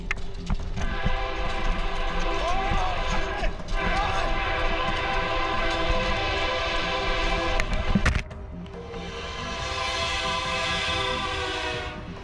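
A train rumbling along in a video game, sustained mechanical noise with a long tonal horn-like drone, a sharp jolt near eight seconds, then a shifted hum.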